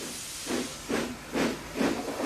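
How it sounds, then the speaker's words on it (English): A Thomas-style steam locomotive puffs rhythmically, giving four evenly spaced hissing chuffs of steam, close and moderately loud, with no voices. "Thomas is a steam engine."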